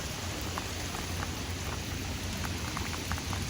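Steady outdoor rain patters continuously at close range, a dense even hiss with occasional louder drops, and no talking.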